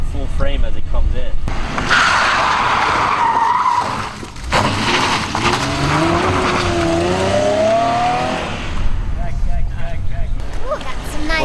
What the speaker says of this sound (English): But we'll see the car full frame as it comes in.